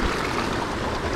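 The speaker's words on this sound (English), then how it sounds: "Watch the waves while you're doing this." Ocean waves wash against a rocky jetty in a dense, continuous roar with low rumble and airy hiss, steady and fairly loud, with no voices.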